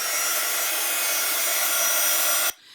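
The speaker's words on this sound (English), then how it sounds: "I'm gonna just use this here hot gun." A heat gun blows hot air to dry watercolor paint, a loud steady close roar of airflow that cuts off abruptly near the end, leaving faint residual noise.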